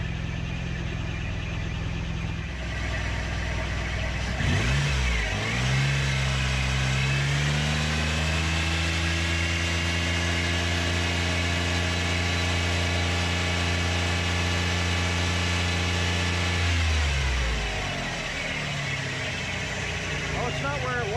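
A 1995 Ford Taurus SHO engine idles steadily and close by after an alternator and serpentine belt tensioner swap, a low even hum with a brief rev and settle early on, then a cut near the end.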